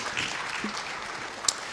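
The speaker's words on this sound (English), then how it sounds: "A round of applause for all of them." Audience at a live national dialogue panel on hospital bed shortages clapping for the speakers, a moderate, steady patter with one sharp knock near the end.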